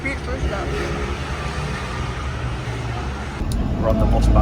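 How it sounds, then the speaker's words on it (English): Interior of a moving bus on the Istrian Peninsula, a steady engine rumble and road noise that swells louder toward the end, with faint voices mixed in. "We're on the bus back"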